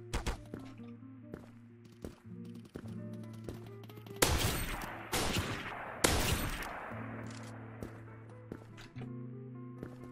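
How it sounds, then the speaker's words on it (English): Gunfire in the shooter game Krunker.io: sharp single shots and a few heavier, loud cracking blasts ring out over a steady, droning in-game tone, spaced unevenly across the stretch. "I was gonna say, I heard that shot."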